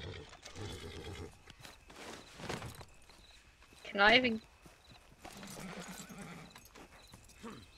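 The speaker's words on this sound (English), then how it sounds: "No, but your horse is here now." Horse in the Western game Red Dead Redemption 2, hooves clip-clopping and a short snorting whinny in the middle, heard under someone talking with other voices.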